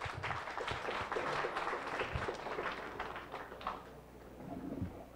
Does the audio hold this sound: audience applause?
yes